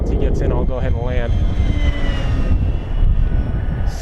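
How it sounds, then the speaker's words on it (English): A Hobby King Avios YAK-52 1200mm radio-controlled model plane drones steadily overhead, its engine whine holding a rising tone throughout, with a voice speaking briefly near the start. "Avios YAK-52 from Hobby King."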